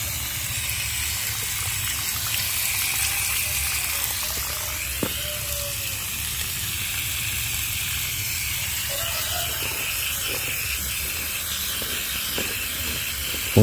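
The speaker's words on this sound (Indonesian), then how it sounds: "Ini kita siram begini, bawah udah ngocor." Water poured over an aglaonema in a pot of very porous growing media, with runoff draining out the bottom, makes a steady, even hiss and rush that carries on without a break for the whole stretch.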